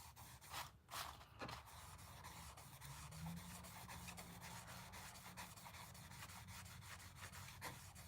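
Tarnish rubbed off the bolsters of a Buck 503 pocket knife, a steady close scratchy friction running throughout with a couple of sharper scuffs near the start and a low hum underneath.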